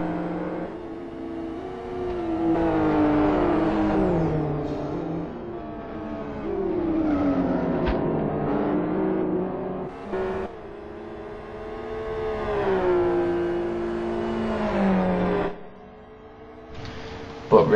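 Race cars running on a track, heard as a sustained engine whine that rises and falls in pitch as the cars accelerate and pass, fairly loud and continuous, with a brief dip near the end.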